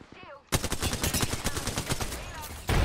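Dense automatic gunfire in a video game, rapid close bursts firing almost continuously for a couple of seconds after a brief quiet voice, then a louder blast at the end.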